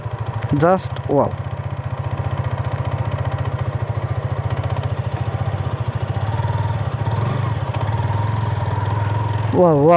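A Hero Karizma 210 cc motorcycle engine hums steadily at a constant pitch while riding on a highway, with a voice briefly speaking over it near the start and again at the end.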